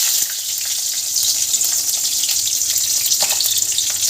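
Black cumin and slit green chillies hit hot oil for a Bengali doi sorshe hilsa curry, a steady bright sizzle and crackle that flares sharply near the start and again after three seconds.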